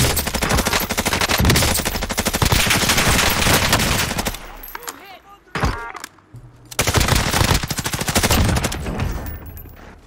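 Close, loud machine-gun fire in Modern Warfare Warzone, long rapid automatic bursts broken by a short lull with single shots, then another sustained volley, with players talking over it.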